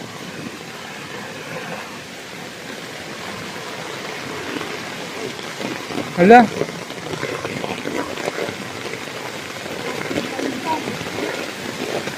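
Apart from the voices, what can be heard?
heavy rain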